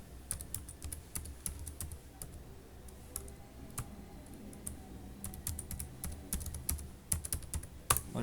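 Keys clatter on a computer keyboard as a username and password are typed in, with quick bursts of clicks, short pauses between them and steady close tapping over a faint background hum.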